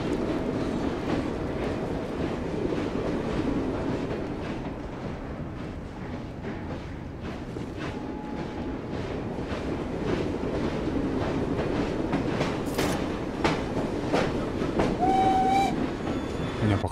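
A train rolls along rails in the Victorian London setting of Assassin's Creed Syndicate, a continuous rumbling clatter of wheels with a steady rhythmic clack and occasional brief whistle tones near the end.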